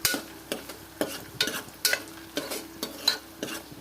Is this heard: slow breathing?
no